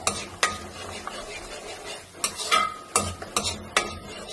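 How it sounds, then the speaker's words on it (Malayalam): Beaten chicken eggs fry in oil in a pan as a utensil scrapes and stirs against the metal. Sharp scraping strokes come at uneven intervals over a soft sizzle, close up, with no voices. "നമുക്ക് ഇതിലേക്ക് ഈ കോഴിമുട്ട അടിച്ചു വെച്ചത് ഒഴിച്ചു കൊടുക്കാം"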